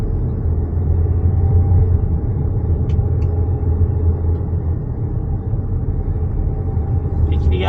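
Low steady cabin rumble and road drone from a Dignity Prestige car cruising smoothly uphill, a constant engine hum heard from inside, with a couple of faint clicks and no talking.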